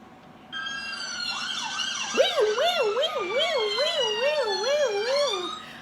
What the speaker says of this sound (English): how about some ambulance sounds like beep-ba, beep-ba, beep-ba?